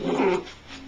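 A puppy in a film scene gives a short, low growl that fades quickly within a second, fairly quiet and alone.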